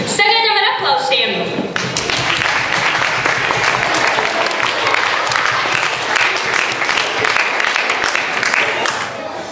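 Loud, continuous applause from a circus audience in Riga after a short musical intro, many hands clapping steadily for several seconds with voices mixed in.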